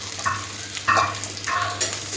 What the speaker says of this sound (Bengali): আদাটাও পেঁয়াজের সাথে একটু ভেজে নিতে হবে।